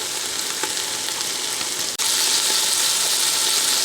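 Beef pieces frying in avocado oil in a pan for spicy beef stew, making a loud, continuous close sizzle that cuts out for an instant midway, then resumes even stronger.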